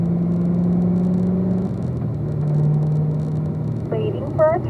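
A car's engine hums and drones as it downshifts to third on a cone-marked driving course, its pitch dropping and rising through the shift, with a voice talking briefly near the end.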